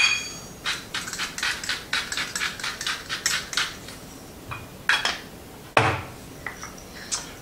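Salt and pepper ground in a hand grinder while roasting carrots with farro, a close series of short rhythmic crunching twists, about a dozen in a row, then a few scattered clinks and knocks.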